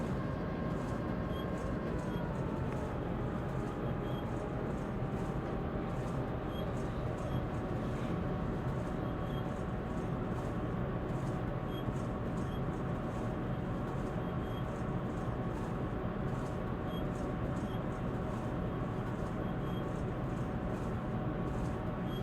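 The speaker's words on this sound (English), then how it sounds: "It's a happy train, doing 30 miles an hour, coasting along." Loaded freight train in a railroad video game coasting at 30 mph, a steady low rumble with faint high whine, continuous and even throughout.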